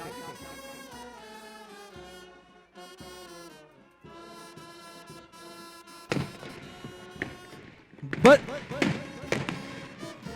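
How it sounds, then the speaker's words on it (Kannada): Music plays, then a few sharp, loud explosive blasts burst through, the last and biggest near the end, from a commando window-assault drill using explosives behind a bus. "ಬಸ್ನ ಹಿಂದಿನಿಂದ ಸ್ಫೋಟಕದ ಮೂಲಕ diversion ಮಾಡುತ್ತಿದ್ದಂತೆ window assault Arjuna assault ಮಾಡ್ತಾ ಇದ್ದಾರೆ"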